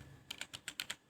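Six quick keystrokes tap out on a computer keyboard while coding, crisp and close with a steady rhythm, then the typing stops; no one speaks.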